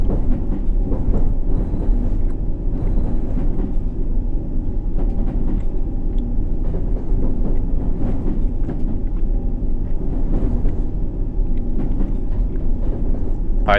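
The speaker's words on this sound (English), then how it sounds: "The train slowed down, then accelerated again." D-stock subway train in the World of Subways 3 game, a steady loud rumble of wheels and motors with faint clicking over track joints, easing as it slows then building again as it accelerates, with no talk.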